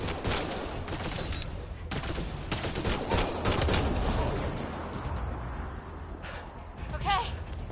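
Rapid bursts of gunfire from a sci-fi shooter game firefight in Mass Effect Andromeda, loud and dense with overlapping shots and impacts, easing off toward the end as brief voices come through.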